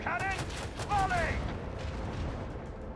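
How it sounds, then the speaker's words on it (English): Macro cannon volley in Warhammer 40,000: Rogue Trader, a dense rumbling fusillade of shots under a loud, steady roar, with a voice briefly calling out over the start. "Macro cannon, volley!"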